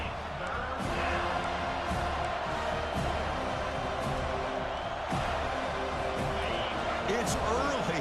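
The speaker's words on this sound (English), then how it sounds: "It's early, but this crowd is fired up. Listen to this noise here." Stadium crowd noise in the College Football 25 video game, Clemson at Florida State: a steady, loud, dense roar that never lets up, with a commentator's voice talking over it throughout.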